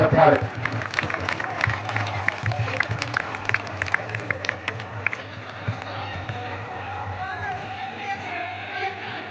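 A crowd claps in a dense burst that gradually thins and fades, with murmuring voices underneath, at an award felicitation ceremony.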